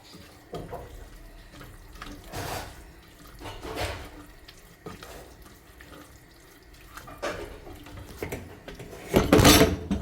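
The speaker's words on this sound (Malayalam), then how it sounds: "കുറച്ച് വെള്ളം ഒഴിച്ച് കൊടുക്കാം." Water pours into a pan of palak (spinach) curry in a home kitchen, a splashing, trickling run in several bursts, the last one near and loudest.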